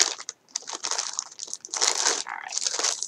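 Plastic mail packaging crinkling and crushing as a package is opened, a steady close-up rustle with brief pauses.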